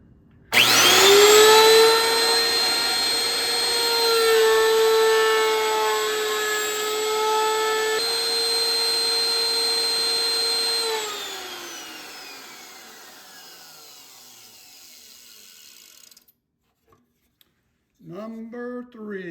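A power tool cuts a half-inch-deep slot in wood while a three-legged table is being built. A loud, steady whine runs for about fifteen seconds, then winds down and stops, and a brief voice follows.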